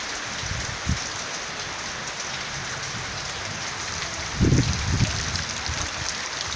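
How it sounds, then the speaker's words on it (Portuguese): Heavy torrential rain pours down steadily in a continuous dense hiss, with a couple of brief low thumps standing out briefly above the downpour. "Caiu uma tromba d'água muito forte."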